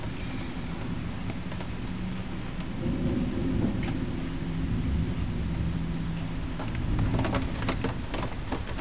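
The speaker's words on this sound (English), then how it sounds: "Storm's been going on for roughly about 20 minutes now." An evening thunderstorm in Southern Ontario, with a continuous hiss of heavy rain under low, rolling thunder that swells and fades, plus scattered crackles and drips close by.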